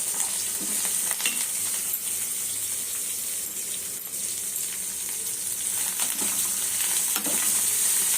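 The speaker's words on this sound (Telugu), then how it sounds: "పచ్చివాసన పోయేంత వరకు వేయించుకోవాలి" Raw tamarind chutney with turmeric frying in a pan, giving a steady, close sizzle with occasional soft stirring scrapes, alone without talk.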